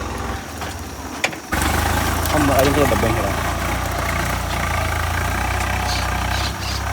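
A tractor engine idles steadily close by on a farm field, a low rumbling drone that holds constant throughout, with faint voices now and then over it.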